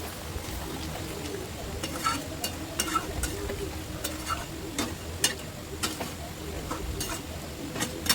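Doi potol (pointed gourd in yogurt curry) cooking over a high gas flame, a steady low bubbling sizzle with scattered ticks and light stirring scrapes, close and continuous, no talk.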